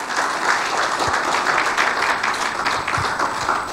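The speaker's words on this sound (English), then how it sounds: "Let me clap for him." Applause from a church congregation for a brother named Oladekan, steady dense clapping filling the room for several seconds at moderate loudness, with no voices over it.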